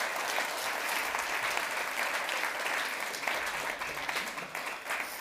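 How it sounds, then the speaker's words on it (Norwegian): An audience at a book and film launch party applauds, a dense steady clapping from a crowd heard at a distance and sustained throughout. "Så en god applaus for de,"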